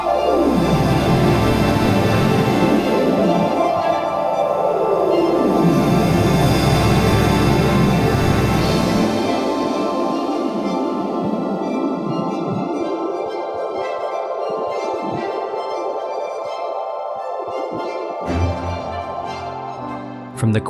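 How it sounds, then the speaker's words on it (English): Data sonification of a space image with brightness mapped to volume and pitch: a dense, loud synthetic drone of layered tones that sweeps and shifts, thinning into sparser high tones toward the end. "In this data sonification, scientists mapped brightness to both volume and pitch."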